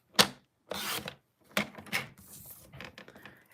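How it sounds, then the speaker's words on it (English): Paper being cut about 1/8 inch off its edge for a mixed media floral piece; a series of short, close scraping cuts in separated bursts, with no talk. "let's cut it at 1/8 of an inch"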